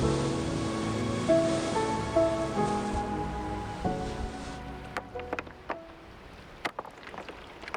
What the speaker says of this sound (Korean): 고요하던 바다가 요란합니다.